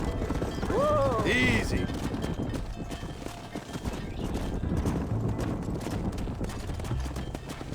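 Horse hooves clip-clop steadily through a Red Dead Redemption ranch scene, a busy continuous patter with a short whinny near the start. Someone speaks briefly over the hoofbeats and background bustle.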